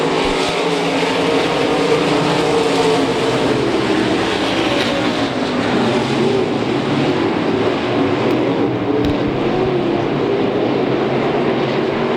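IMCA stock cars race on a dirt track, their engines blending into a steady, loud roar that holds without a break, with several cars running close together and no talk over the sound.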